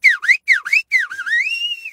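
A man whistles nearby, a few quick swooping chirps followed by one longer rising and falling note, loud and clear with no voices over it.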